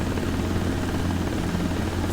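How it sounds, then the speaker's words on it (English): A helicopter in a desktop flight simulator game, its engine and rotor giving a continuous, even drone with a low throb, held at a steady level for the whole stretch and heard alone with no talking. "fly the helicopter to the destination"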